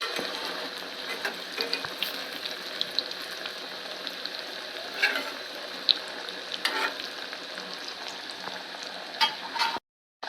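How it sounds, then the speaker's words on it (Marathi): Steady, crackling sizzle of methi vadi (fenugreek fritters) deep frying in hot oil, with scattered pops and bubbling throughout before cutting off at the end. "मी डीप फ्राय करत आहे"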